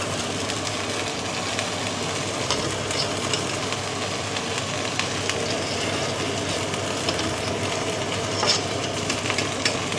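Gnocchi frying in a pan, a steady, even sizzle with light crackles that runs alone throughout at a moderate level.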